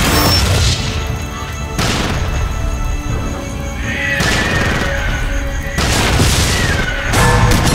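Loud, booming grenade blasts from the Jurassic Park arcade game by Raw Thrills, with several heavy explosions following one another over a steady, dense roar of game sound and no speech.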